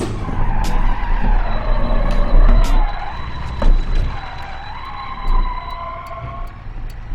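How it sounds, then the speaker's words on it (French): Loud tire and brake squeals in BeamNG rise and fall over a revving engine, with sharp skidding tones repeating across several seconds. "Les freins ont grincé."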